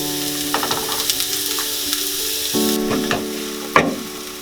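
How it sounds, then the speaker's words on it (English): Onions frying in white oil in a pan, a steady sizzle with faint clicks and scrapes from stirring, ending in a sharper clink near the close. "to the oil I'll add in my onions"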